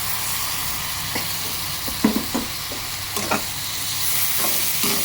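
Onion, field beans and chopped tomato fry in a pan with a constant close sizzle, while a utensil stirs and scrapes through the mixture in a few short bursts.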